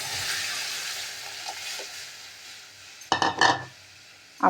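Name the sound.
asafoetida tempering spluttering in hot oil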